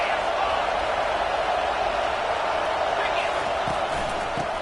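A dense, steady roar from a football stadium crowd fills the air, constant and loud, with a commentator talking over it.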